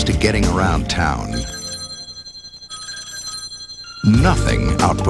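A telephone bell rings in sustained metallic bursts with bright overtones, heard alone in the middle with speech before and after it, close and clear.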